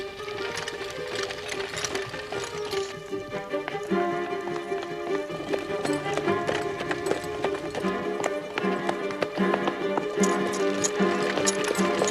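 Horse hooves clatter in a quick, steady clip-clop rhythm in the Sherlock Holmes period drama 'The Solitary Cyclist', with orchestral music playing over them throughout.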